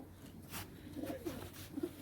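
Soft, low pigeon coos sound faintly a few times against a quiet background hiss.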